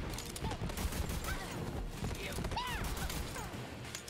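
Repeated gunshots from a Jakobs gun in Borderlands 3 crack in a quick, fairly steady volley under game effects and a voice talking throughout.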